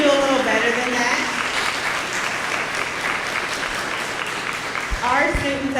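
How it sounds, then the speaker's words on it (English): An audience gives sustained applause for students at a leadership day event, a thick steady wash of clapping, with a voice speaking briefly at the start and again near the end. "Can we give the students one more round of applause, please?"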